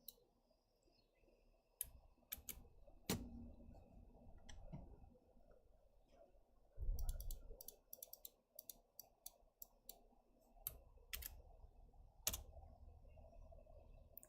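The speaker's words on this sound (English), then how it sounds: "let me try typing this in and see what happens" Computer keyboard keys clicked in scattered bursts and single taps during a birthday stream, close and fairly quiet, with low room noise between strokes and no speech.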